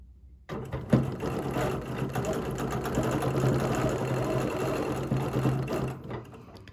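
A sewing machine stitches thread in a circle, starting after a brief quiet moment and then running in a fast, steady, close mechanical whir with a rhythmic chatter of the needle.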